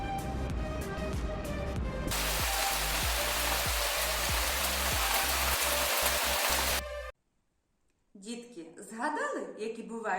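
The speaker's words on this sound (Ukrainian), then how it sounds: "В цю пору часто йдуть дощі." Autumn rain falls as a dense, steady hiss for several seconds, cutting off abruptly; a voice speaks before it and again after a short silence.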